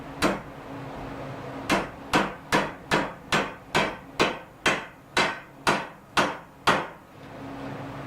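Steady hammer strikes driving a nail through metal while forging a glaive, about a dozen sharp blows in a quick, even rhythm with a short pause after the first hit.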